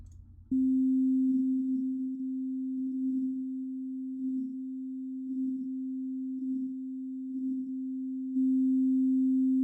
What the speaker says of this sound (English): you can hear the audio, you know, floating from left to right on your speakers